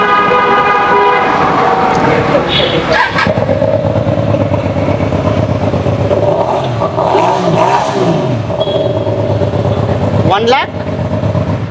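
A 2015 Hyosung Aquila cruiser motorcycle at a Bangalore used-bike lot starts up and revs in a few rising surges, loud and close, with a horn toot and street traffic around and people talking over it.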